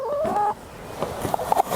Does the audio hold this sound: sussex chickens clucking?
yes